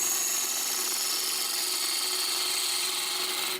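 A small wood turning gouge taking big cuts on an end grain natural edge vase, a steady continuous scraping hiss from the spinning workpiece, close and fairly loud throughout, ending abruptly.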